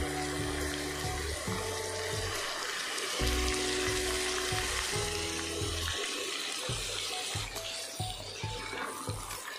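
Marinated beef added to fried onions sizzles loudly in a pan for a beef and jackfruit seed curry, a steady crackling fry with intermittent louder bursts and a low mechanical hum underneath.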